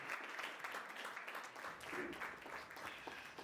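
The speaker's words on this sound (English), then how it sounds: "Round of applause." Audience applause at a spoken word poetry session, a steady wash of clapping with some crowd voices mixed in, fairly faint and distant.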